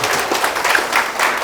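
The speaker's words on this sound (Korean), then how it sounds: "오늘 특강에 함께해 주신 여러분 힘찬 박수 치면서 오늘 마치겠습니다." Audience applause closing a Korean real-estate tax law lecture, a dense, steady patter of many hands clapping at moderate volume throughout, with no talk over it.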